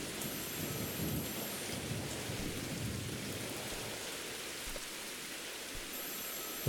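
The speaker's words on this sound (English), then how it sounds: "Oh, it's raining." Steady rain hisses throughout in the horror game Mothered, with low thunder rumbling beneath it; constant and moderately loud, with no voices.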